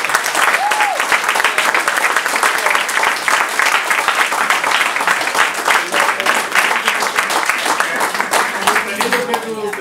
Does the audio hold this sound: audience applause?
yes